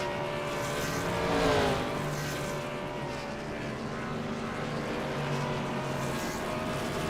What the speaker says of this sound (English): Cross the finish line, and he is going to do some burnouts.